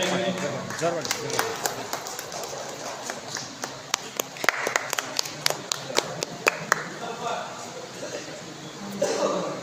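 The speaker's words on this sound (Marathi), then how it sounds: "कृपया सर्वांसाठी जोरदार टाळ्या वाजवा" An audience at a prize distribution event claps in scattered, uneven bursts, with sharp individual claps standing out over continuous talk and background crowd noise.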